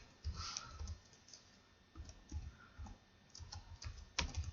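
Typing on a computer keyboard sounds as a quiet, close string of soft, irregular key clicks with brief pauses between bursts, and no talk over it.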